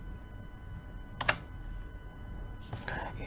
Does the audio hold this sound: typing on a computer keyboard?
yes